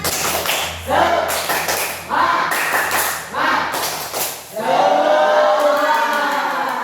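A classroom of students performs a rhythmic clapping chant, sharp bursts of claps landing in patterned groups between loud chanted group voices, with a teacher's voice leading.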